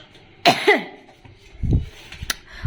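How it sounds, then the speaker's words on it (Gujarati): Two quick coughs close up, followed by a softer throat-clearing rumble and small shuffling noises. "ઉધરસ આવે છે."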